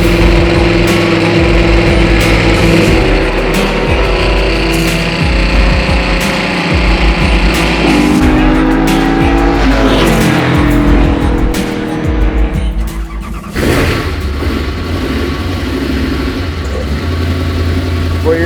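An IndyCar-engined Martini Mustang Fastback drives past loudly, its high-revving engine note rising and falling with brief tire squeal and a sharp drop near the end, with no talk over it.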